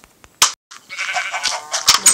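Sheep bleating inside a video game, several short bleats over about two seconds with a loud burst near the start and more calls toward the end, close and clear.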